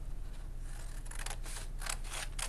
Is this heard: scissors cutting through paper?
yes